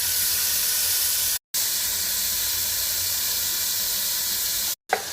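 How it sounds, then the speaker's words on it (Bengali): Marinated shrimp fry in hot oil with a continuous, even sizzling hiss, fairly close and loud, interrupted by two brief cuts. "মাছগুলা ফ্রাই করে নিচ্ছি প্রথম।"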